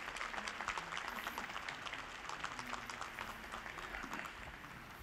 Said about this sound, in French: nous nous saluons les uns les autres en nous applaudissant